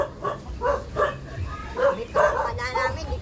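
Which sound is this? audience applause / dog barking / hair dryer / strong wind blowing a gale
dog barking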